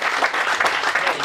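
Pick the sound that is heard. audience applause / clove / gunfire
audience applause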